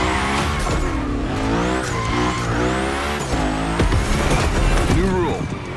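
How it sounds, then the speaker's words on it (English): Tires squeal continuously as a car spins donuts in The Crew Motorfest, the engine droning and pitch sweeping up and down as it circles, loud and close with voices talking over it. "he's doing great at donuts"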